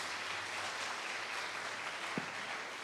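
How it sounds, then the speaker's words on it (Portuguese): A church congregation applauds in a steady, moderately quiet wash of clapping that holds even throughout, with no voices standing out above it. "Vamos aplaudir a Jesus, porque passou tudo."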